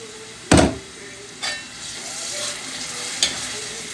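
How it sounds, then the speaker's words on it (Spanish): Black beans for moro sautéing in a pan, a soft continuous frying hiss broken by three sharp spoon knocks against the pan, the first the loudest, close by with no talk. "Y ahora lo sofreímos."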